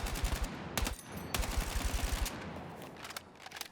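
NVO gun test-fired on a firing range in Battlefield 6 RedSec: two close, rapid automatic bursts of sharp shots, each trailing off into echoing tails, with no talking.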